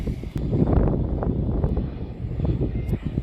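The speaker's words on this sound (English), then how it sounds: "Another plane." A steady low rumbling roar of an airplane passing overhead at the Old Sarum castle ruins, loud and continuous, with some wind buffeting the microphone.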